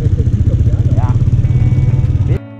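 A motorcycle engine revs steadily and loudly up close, its throaty rumble holding for about two seconds before cutting off abruptly near the end.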